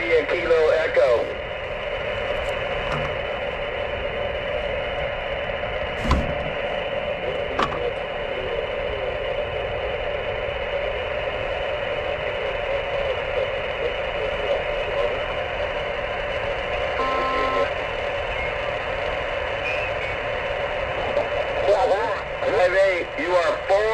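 A shortwave amateur radio receiver tuned to the 20 meter band gives a steady hiss and static, with faint warbling voices and brief clicks drifting through the noise.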